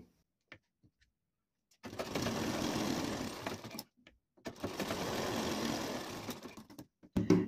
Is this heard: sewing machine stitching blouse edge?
yes